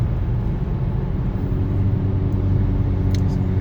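Kia Stinger car cruising on a test drive, a steady low engine and road rumble filling the cabin with constant loudness throughout, no voices present.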